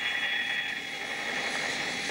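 Steady roar of a BAE Hawk jet trainer's engine during a spin, a loud, continuous whine with a strong high-pitched tone, heard from inside the aircraft with no speech.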